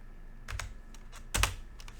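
Computer keyboard keys clacking during Python coding, cutting and pasting a line: a few quiet, close taps in small bursts with gaps, over faint room hum.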